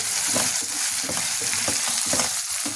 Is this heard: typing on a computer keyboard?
no